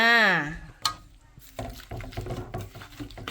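Chicken pieces being tossed and mixed with sweet flour in a bowl for a northern Thai steamed leaf-wrapped dish, giving soft wet stirring and rubbing close by, with a brief rising tone at the start.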